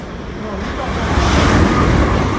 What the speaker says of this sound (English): There is the bullet train in Japan.